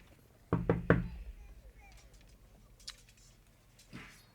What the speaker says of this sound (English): There comes a knock at the door.